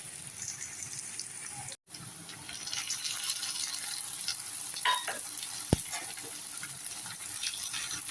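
Onions browning in a pan with ginger garlic paste, a continuous close sizzle and hiss with occasional stirring scrapes and one brief pause in the sound.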